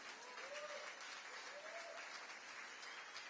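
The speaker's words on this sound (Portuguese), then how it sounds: "Você pode aplaudir a Jesus?" A church congregation applauds in praise, producing a steady, full wash of clapping that holds even throughout, with faint voices rising briefly underneath.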